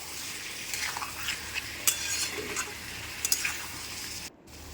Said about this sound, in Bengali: সর্ষেটা দেওয়ার পর একটু নাড়াচাড়া করে নিলাম।